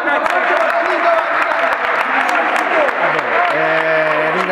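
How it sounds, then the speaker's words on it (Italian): An audience applauds Giovanni at an awards ceremony after the South American Championships, a dense, steady clapping that fills the room, with voices and tonal sounds mixed in near the end. "Poi un applauso a Giovanni"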